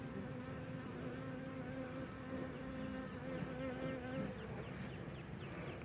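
Honey bees buzz continuously around an opened spring hive, with a dense, steady droning hum and a few individual bees passing close by, faint and without voices.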